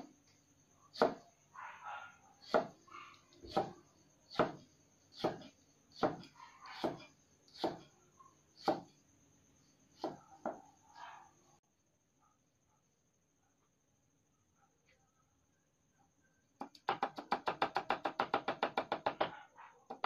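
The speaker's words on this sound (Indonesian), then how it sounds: "sekarang kita jahenya kita cincang" Ginger is minced with a knife on a cutting board for Balinese tilapia pepes: about a dozen evenly spaced, sharp chops ring out close by, then a silent pause, and finally a quick, dense flurry of rapid chopping.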